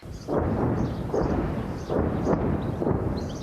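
Deep, rolling rumbles of distant shelling, several heavy booms in succession that swell and fade, with no talking.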